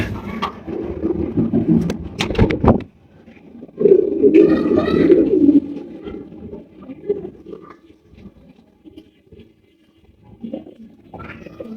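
Large blue magpie potol pigeons at a breeder's loft, a few low cooing bursts and rustling up close, separated by quieter gaps with faint movement.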